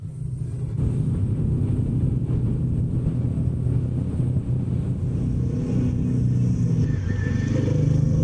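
A Royal Enfield Himalayan 450 dual-sport motorcycle rides through heavy traffic, its engine a steady close low drone with slight rises in revs and surrounding road noise throughout.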